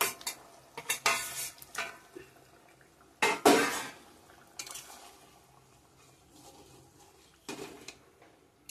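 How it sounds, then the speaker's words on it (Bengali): Paneer tipped into a thin potato curry in a pan, with several sharp spoon clanks and scrapes against the metal, one loud clatter midway, and a soft simmer between hits. "পনিরটা দিয়ে দিলাম এখন"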